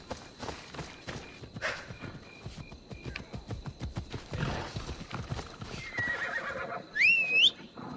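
A horse whinnies and its hooves clip-clop in the video game Assassin's Creed Odyssey, the footfalls steady and soft under ambient game sound before a short, shrill neigh near the end.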